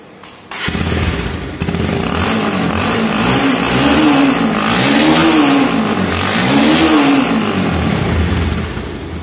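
A motorcycle engine with its silencer partitions cleared revs in slow repeated swells, loud and close, rising and falling in a smooth rhythm over a continuous idle with no talking.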